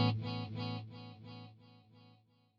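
CorOS pedal running a circular delay at 30% feedback, where a distorted guitar chord repeats about six times in a steady rhythm, each echo fading until the tail dies away, quiet and with no voice.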